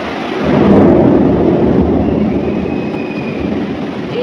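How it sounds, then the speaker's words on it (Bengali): Thunder rolls through heavy rain: a loud, deep rumble swells in the first second, then slowly fades beneath a steady wash of rainfall. "এইভাবে বাবা বজ্রপাত, মানে এইভাবে বেঁকে বেঁকে বৃষ্টি হওয়া"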